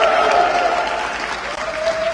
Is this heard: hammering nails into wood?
no